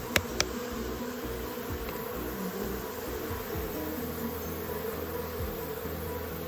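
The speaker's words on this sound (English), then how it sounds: "So I can hear them buzzing away, and I know that this hive is strong." Honeybees in a strong, pest-free hive buzz in a loud, dense, continuous drone close to the listener, with two sharp knocks right at the start.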